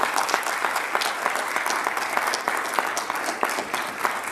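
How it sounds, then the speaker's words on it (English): A crowd at a signing event applauds continuously, a steady patter of many hands at moderate loudness with individual sharper claps standing out throughout. "let's give all three of these a round of applause"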